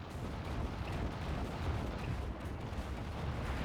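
Rocket barrage in the real-time strategy game Act of Aggression, a dense continuous rumble of rapid explosions and booming impacts at steady loudness throughout, with no voices.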